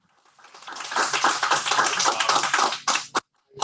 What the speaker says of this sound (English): Round of applause for the tech team that made this